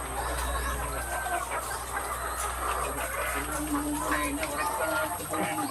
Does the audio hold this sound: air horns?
no